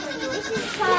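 Baby goats on a farm bleat in a short, wavering cry, close by and fairly loud, with a voice mixed in.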